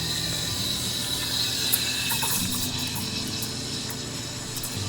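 A small espresso maker hums and rattles with a steady mechanical pumping drone as espresso is pressed out, continuous and close with no talking.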